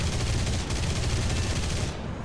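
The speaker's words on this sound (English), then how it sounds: "we are currently getting shot at" Machine-gun fire from aircraft in a War Thunder dogfight: a dense, continuous stream of rapid rattling shots, loud and close, that cuts off just before the end.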